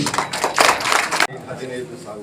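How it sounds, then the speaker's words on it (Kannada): An audience claps at a community stage event in Dakshina Kannada, a dense burst of applause that cuts off sharply after about a second, then a voice talks. "ದಯವಿಟ್ಟು ಆ ಮನಸ್ಸಿಗೆ ಚಪ್ಪಾಳೆಯನ್ನು ಕೊಡಿ"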